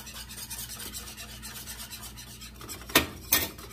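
A whisk stirs flour into plant-based milk in a bowl, with a steady, fast scraping and rubbing rhythm, close and moderately loud, and two sharper clinks against the bowl at the end.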